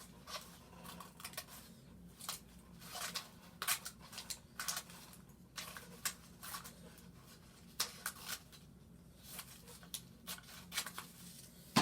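Scissors snip through paper in quick, uneven bursts of crisp cutting, close and fairly quiet, with short pauses between runs of strokes.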